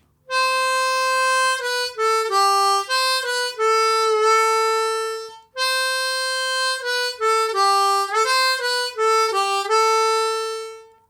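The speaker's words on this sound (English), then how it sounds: "the second harmonica solo is around 1 minute 32" Solo harmonica plays the melody line from a song, two clear repeated phrases of draw and blow notes with a brief gap between, close and bright with no other sounds.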